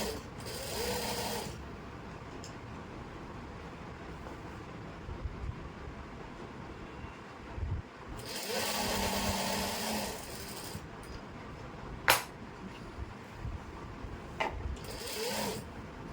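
A sewing machine runs in bursts as it stitches the side fitting seam of a kurti, with fast rattling runs separated by short pauses and a few sharp clicks in between.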